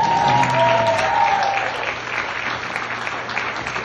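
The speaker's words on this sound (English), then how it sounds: "everybody should give themselves a round of applause" Audience members at a cousins' family reunion clap together in a burst of applause, loud at first and then tapering slightly, with a few brief voices mixed in.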